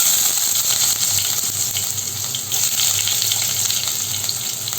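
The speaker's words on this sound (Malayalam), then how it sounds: "ഓയിലൊന്ന് ചൂടായി വരുമ്പോൾ നമ്മളിതിലേക്ക് അരിഞ്ഞു വെച്ചിരിക്കുന്ന ഇഞ്ചി അതുപോലെ തന്നെ വെളുത്തുള്ളി ഇത് ചേർത്ത് കൊടുക്കാം" Chopped ginger and garlic sizzle in hot oil for a chicken sausage roast, a loud, steady frying hiss running close and uninterrupted with no talking.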